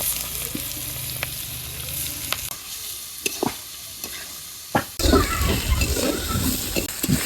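Prawns with onion, chili and red amaranth leaves fry in a pan, a steady hiss with scattered utensil scrapes and clinks, then a louder, fuller sizzle as the greens go in.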